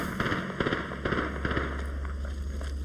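Gunfire in the battle royale game Apex Legends, a series of sharp, loud bursts and cracks in quick irregular succession over a steady low hum, with no speech.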